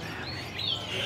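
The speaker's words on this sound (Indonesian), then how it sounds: "Kenari loper jantan." A male loper canary sings in brief, thin chirps, with one clearer high note near the middle, over a steady background hum.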